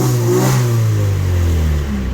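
A drift car engine revving loudly and close during tuning, a rough held rev that slowly drops in pitch over about two seconds.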